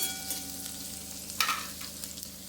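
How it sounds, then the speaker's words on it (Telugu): Sliced onions and green chilies fry in oil in a pan for a cabbage peas curry, giving a soft, steady sizzle with a few brief stirring scrapes and no voices. "ఆనియన్ పచ్చిమిర్చి చక్కగా వేగినాయి"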